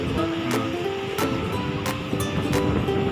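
Ocean waves breaking at a river mouth where fishing boats are pulled ashore, a steady roaring wash of surf with wind noise buffeting the microphone throughout.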